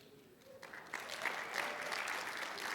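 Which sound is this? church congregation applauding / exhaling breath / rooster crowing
church congregation applauding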